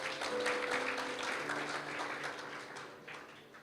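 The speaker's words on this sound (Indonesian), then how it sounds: "Boleh kasih tepuk tangan buat Tuhan kita." A church congregation at an evening worship service claps together in a dense wash of applause that holds steady, then gradually fades.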